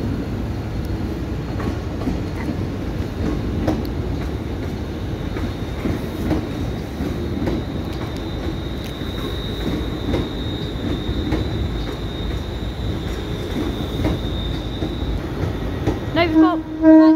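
Trains moving through Glasgow Central station: a continuous rumble and clatter of wheels over the rails, a high drawn-out wheel squeal, and people talking in the background.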